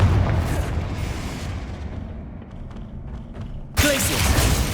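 A Confringo blasting spell goes off in Hogwarts Legacy, a muffled booming burst that rumbles and fades, followed by a sharper blast near the end.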